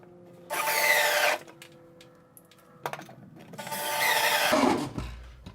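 A power drill drives screws into a light box during a house installation, two close whirring bursts with a quieter gap of small clicks and handling noises between them.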